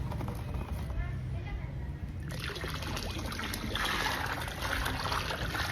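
Water trickles and splashes as bonsai fertilizer is stirred into it, a close, continuous liquid patter that grows busier partway through, with a faint voice in the background.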